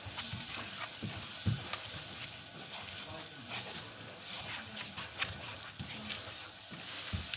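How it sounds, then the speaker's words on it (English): Pork medallions frying in a pan while being stirred: steady sizzling with scraping and clinking strokes, quiet and close, with a little speech in the background. "give it a good stir, and just keep on stirring so it doesn't burn or stick to the bottom"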